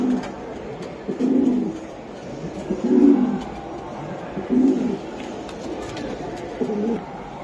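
Pet pigeons at a market stall, including a grizzle male, give soft low cooing calls in several separate bursts, close by and moderately loud over a faint background hum.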